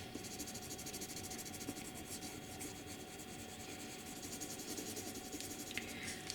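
Pencil colouring on kraft paper makes a soft, continuous scratchy rubbing close to the microphone, with steady strokes and no talking.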